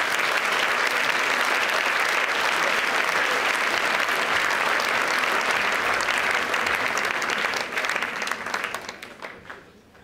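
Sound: audience applause at concert

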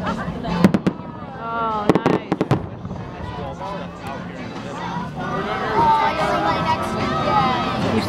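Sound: gas bomb firework exploding

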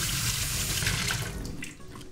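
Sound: rinsing food under running tap water

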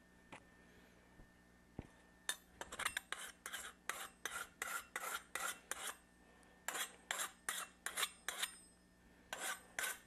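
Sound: filing a pipe with a regular hand file

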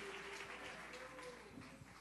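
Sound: congregation clapping hands in church service

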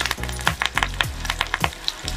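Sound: onion and curry leaves sizzling in hot oil for tadka

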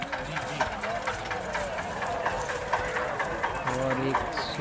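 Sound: Sindhi horse hooves clip-clopping

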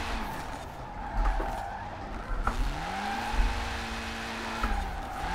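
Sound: car drifting along guardrail in a racing video game

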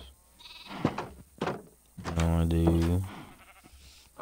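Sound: sheep bleating in Minecraft video game

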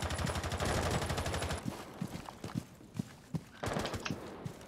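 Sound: gunfire at a window in Rainbow Six Siege video game

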